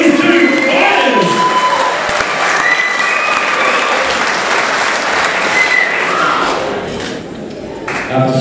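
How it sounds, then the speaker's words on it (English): A stadium crowd at a boxing fight between Tonga and New Zealand claps and cheers loudly and continuously, with thumps and shouting mixed in, fading near the end as a voice rises. "Can we just make one last round of applause for these two fighters?"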